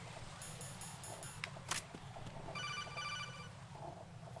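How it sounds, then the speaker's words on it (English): A trilling electronic phone ring from the video game Metal Gear Solid 2 sounds in two short bursts separated by a pause, faint and thin over low background game ambience, with a brief click in between. "And we get a phone call from somebody in the vicinity who doesn't even show us his face."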